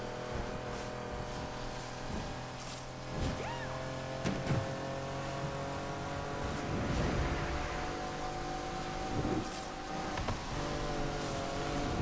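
A car engine in the racing game Need for Speed Unbound drones steadily with tyre noise as the car drifts, the sound level and fairly loud throughout with faint scattered bumps.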